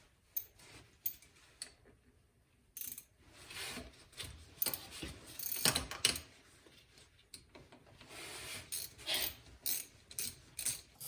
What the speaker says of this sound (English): you're going to need a ratchet, a 1/4-inch ratchet, and an 8mm socket, and you're going to be removing these two bolts right here